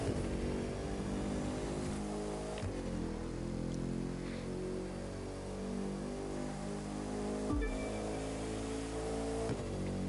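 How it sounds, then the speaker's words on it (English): A Bugatti with a W16 engine in the racing game The Crew 2 holds a loud, sustained engine drone that rises through the revs, with sharp gear-shift drops around three and nine and a half seconds. "Bugattis sound pretty nice in this game. Actually sounds like a W16"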